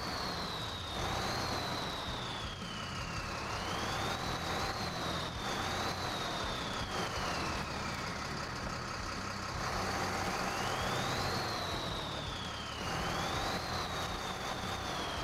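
A Ford F350 Limes 2017 L400 truck engine in Expeditions: A MudRunner Game, droning steadily with repeated rising and falling revs as it works over rough terrain, loud and close and heard alone.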